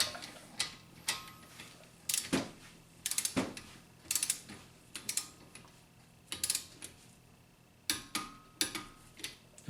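A torque wrench clicks and ratchets as brake caliper bolts on a 2004 Honda Accord are tightened to spec during a front pad and rotor job, giving a series of sharp close mechanical clicks in irregular bursts with no talk.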